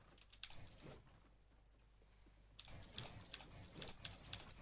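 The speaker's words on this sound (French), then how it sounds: "on entend un petit son de clavier" Computer keyboard typing during a game map-editing session, with soft, quick clusters of key clicks in two bursts separated by a quieter pause, faint and close against a low background hum.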